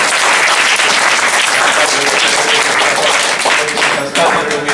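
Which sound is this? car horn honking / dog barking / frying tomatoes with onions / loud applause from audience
loud applause from audience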